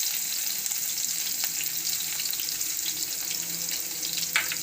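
Bay leaf, two chilies and green garlic hitting hot oil give a steady, loud, close sizzling hiss that holds evenly throughout, with a brief clatter near the end and no talking.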